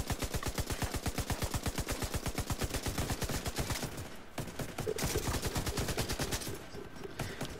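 An LMG in The Division 2 fires long sustained bursts, a dense rapid rattling stream of shots that pauses briefly and then resumes, loud and close.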